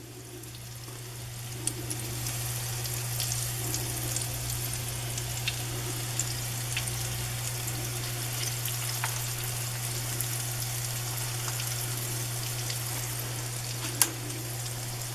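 Chicken fries in hot oil with a steady, dense sizzle and crackle, moderately loud and unbroken, with a low constant hum underneath and occasional sharp pops.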